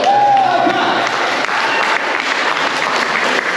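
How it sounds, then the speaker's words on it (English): A crowd claps in a loud, dense round of applause at a Great North Run race-weekend gathering, sustained close to the microphone, with a brief voice at the start. "give a round of applause"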